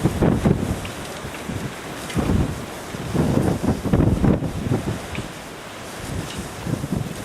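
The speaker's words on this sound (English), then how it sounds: "That's a gust over 50 or right at 50." Strong wind gusts batter the microphone during a Christmas Eve blizzard in Oklahoma, rising and falling in loud buffeting surges with brief lulls between them.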